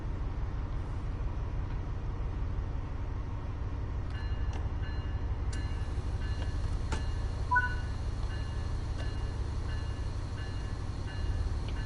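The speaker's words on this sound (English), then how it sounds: "This locomotive is pretty loud, I won't lie." Diesel locomotive in a train simulator game running steadily with a loud low engine drone, a few faint clicks and tones from cab controls layered on top, no voices.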